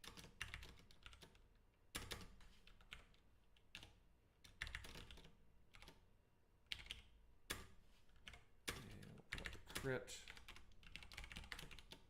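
Code is being typed on a computer keyboard in quick, irregular bursts of clattering keystrokes with brief pauses, and a voice speaks softly between the bursts.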